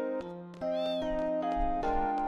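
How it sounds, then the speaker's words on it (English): Cat meowing in the video game Final Fantasy VIII, in FH Town: a short series of clear, tonal game-sound meows over steady background music, fairly close and distinct. "A kitty cat. Meow."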